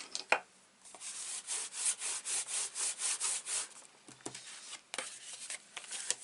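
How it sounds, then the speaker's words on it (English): A stamped paper card is rubbed from the back in a quick run of about ten steady back-and-forth strokes, close and fairly quiet, with a couple of softer scuffs after a short pause. "I'm just going to give that a quick rub from the back."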